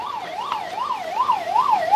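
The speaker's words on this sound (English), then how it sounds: "The ambulance is running on the way." An ambulance siren wails in a steady rising-and-falling pattern as it passes on a road in north east India, loud and close throughout.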